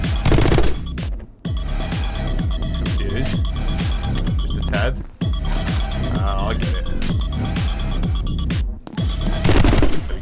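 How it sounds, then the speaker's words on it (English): Rapid assault rifle fire in the video game My Friend Pedro, loud, close bursts of repeated shots across nearly the whole stretch, broken by brief pauses and backed by music. "Let's go back to the assault rifle."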